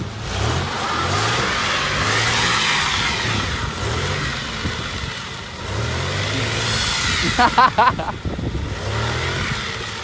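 A car with a welded differential revving on an icy road, its mid-pitched engine surging up and down in repeated bursts, with people talking nearby and a short cluster of sharp knocks near the end.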